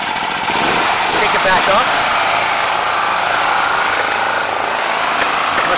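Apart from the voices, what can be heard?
Jiangdong JD4000 4000W generator engine idling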